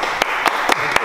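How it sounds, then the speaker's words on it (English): Four sharp, evenly spaced one-handed claps ring out close by at a sim racing centre, a slightly thin, slapping sound, with no talking. "I'm clapping with one hand."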